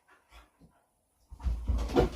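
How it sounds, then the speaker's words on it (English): Two dogs quietly squabble indoors at night: a few soft whimpers and snuffles, then a longer spell of close, muffled scuffling, growling and panting. "my dogs are itching to fight at the moment. I can hear them."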